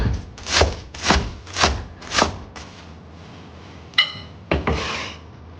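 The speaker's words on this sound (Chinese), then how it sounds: "再把韭菜切一下，包饺子也挺快的。" Chinese chives chopped with a knife on a cutting board, about five slow, evenly spaced thuds close by, followed after a pause by a couple of sharper scraping knocks.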